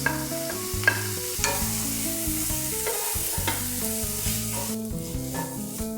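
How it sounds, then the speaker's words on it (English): Finely chopped tomatoes stirred into a hot pan of frying soya pulav with turmeric, giving steady close sizzling with repeated scraping stirs throughout, no talking. "At this stage, we can add finely chopped tomatoes."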